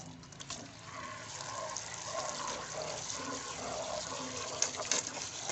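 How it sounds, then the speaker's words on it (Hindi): Water steadily pouring and gushing into a bucket while liquid detergent is being made, a continuous close splashing rush with a couple of small clinks near the end. "ये पानी डाल रहा हूँ जी इसमें मैं।"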